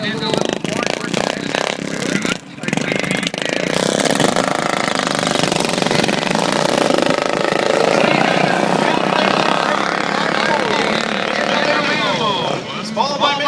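Stock class lawnmowers race at the Ardmore Extreme 2013 lawnmower races, their small engines buzzing and snarling in a dense, loud continuous roar that swells and shifts as machines pass, with a voice talking over it.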